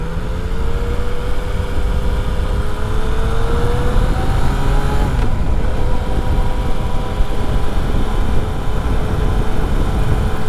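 Yamaha XSR 900 motorcycle engine held around 6,000 to 7,000 RPM while riding during break-in, a steady loud drone with rising and falling tonal lines under rushing wind noise, no speech.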